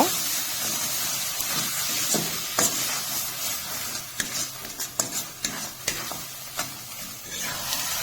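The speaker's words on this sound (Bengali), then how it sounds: "ধনিয়া পাতা কুচি দিয়ে কিছুক্ষণ নেড়ে চেড়ে নামিয়ে নেব" Eggplant mash with chopped coriander being stirred in a pan, a soft continuous sizzle and hiss broken by scattered scraping clicks of the spoon, fairly quiet and without talk.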